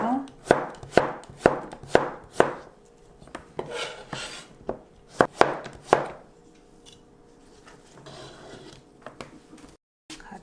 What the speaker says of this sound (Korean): 자 재료를 한번 썰어볼게요. 호박을 썰어서 딱이 썰게요.